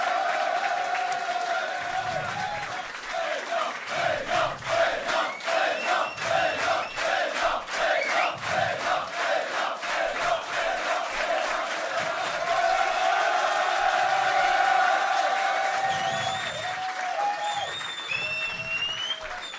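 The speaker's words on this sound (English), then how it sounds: "si on peut l'applaudir bien évidemment" Crowd at a live Starcraft 2 esports event applauding and cheering steadily throughout, a dense sustained roar of clapping with whoops rising near the end.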